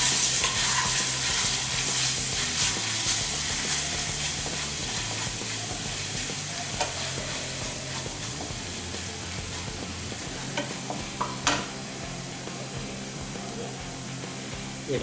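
Ginger garlic paste frying in a tablespoon of oil in a kadhai wok, a loud continuous sizzle with occasional stirring clicks, steady for the whole stretch.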